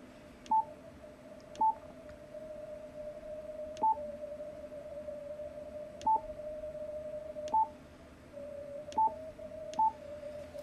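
A low-pitched Morse code radio station, heard through a 300 Hz roofing filter during busy contest conditions, sends a steady tone under faint band hiss while sharper, louder beeps of another signal cut in at irregular intervals.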